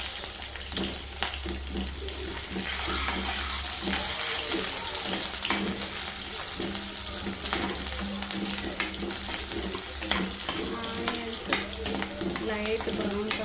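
Onions for a masala curry fry steadily in a pan, giving a continuous dense sizzle with occasional stirring clicks and scrapes and a low hum underneath.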